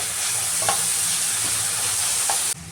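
Tomatoes and salt frying in a hot pan while being stirred, a steady loud sizzle throughout with a few soft scrapes of the spoon, cutting off abruptly near the end.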